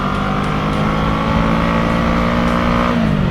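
An FKM Falcon X400 motorcycle accelerating hard and shifting up through the gears, a loud, close, steady engine drone with rising pitch and a gear change near the end, no talk.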